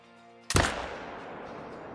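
A single AR-308 rifle shot fired in the hunting video game Call of the Wild: a sudden loud, sharp blast with a rumbling tail that fades over about a second, with no other sound around it.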